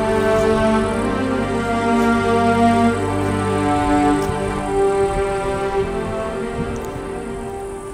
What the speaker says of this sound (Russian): Только что проехал автобус мимо